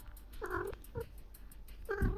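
A domestic cat meows close by indoors, three short calls, the first and last longer and the middle one clipped, over a quiet background.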